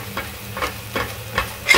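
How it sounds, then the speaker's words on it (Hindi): Masala with turmeric, coriander powder and garam masala fries in a pan while a spatula stirs it, making about four regular scraping strokes over a soft sizzle, close and clear, with no speech. "अभी मैं इसमें डालूंगी हल्दी, धनिया पाउडर और गरम मसाला, थोड़ा सा इसको फ्राई करेंगे।"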